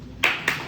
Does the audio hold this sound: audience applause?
yes